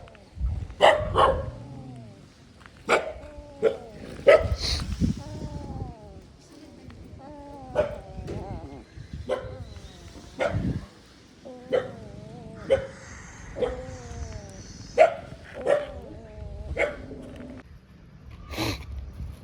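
An injured puppy whimpers and yelps repeatedly, with high, wavering cries and short barks coming close together, while people talk nearby.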